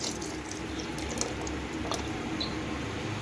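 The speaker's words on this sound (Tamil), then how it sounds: "புளி, நம்ம கரைச்சி வச்சுருக்க புளி தண்ணியை ஆட் பண்ணிக்கலாம்." Tamarind water poured into a cooking pot for a dry fish curry, a soft, steady liquid splash and trickle, faint and close, with no talking over it.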